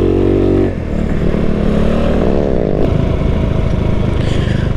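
A daily-use motorcycle ridden off-road along a rural nature trail, its engine loud and close with a steady rough drone, a brief dip and then revving with clatter and scraping from the rough ground.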